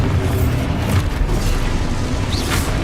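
The Expulso spell going off in Hogwarts Legacy makes a loud, close blast of booming, rumbling explosion noise that fills the short moment, with no speech over it.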